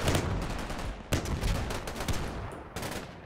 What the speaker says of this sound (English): we got rifle grenades being fired